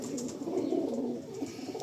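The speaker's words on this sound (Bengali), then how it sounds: "লাম্বাডি নাসলের পায়রা, অন্ধ্রপ্রদেশের আন্ধ্রা লাম্বাডি" Andhra Lambadi pigeons, a breed from Andhra Pradesh, coo in a low, continuous, close-up murmur that barely changes across the moment.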